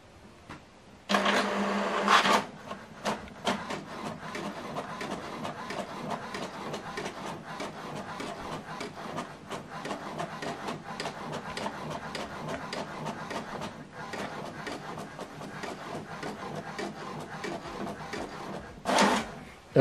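An HP printer runs a double-sided print job, a steady mechanical whirr and rattle lasting nearly the whole stretch, with louder feed bursts near the start and end.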